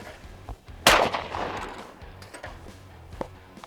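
A single sharp, loud shotgun blast from a Charles Daly 601 semi-automatic firing after a hang fire, followed by a short decaying echo, with faint handling noises before and after.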